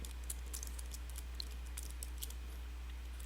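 Keys tapped on a computer keyboard while filling in address fields on a form, a quick, irregular patter of faint clicks over a steady low hum, no talk.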